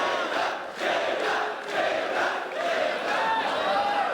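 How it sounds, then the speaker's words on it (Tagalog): Crowd at a FlipTop rap battle reacts with dense, sustained cheering and shouting that swells and dips in waves, loud and close throughout with no pauses. "Yun ang haba ng crowd reaction."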